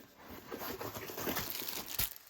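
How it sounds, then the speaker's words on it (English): A folded paper map slid into a plastic bag gives a close, continuous crinkling and rustling of thin plastic, with a sharper crunch near the end, with no talking. "Put it in a plastic bag so it doesn't get wet."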